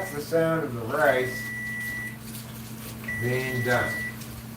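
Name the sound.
rice cooker beeping when rice is done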